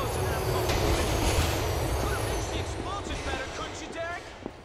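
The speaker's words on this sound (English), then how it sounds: "Oh, that train's coming in." A train arrives in Grand Theft Auto IV, a loud rumbling roar of rail cars with faint wheel squeals, gradually easing off, with a voice talking over it.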